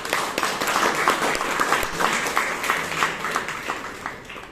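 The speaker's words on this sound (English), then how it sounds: "Can you have another round of applause for this?" Audience applause at a Bangalore Toastmasters meeting after a general evaluation, brisk clapping from a modest group with individual claps standing out, steady and close before fading slightly.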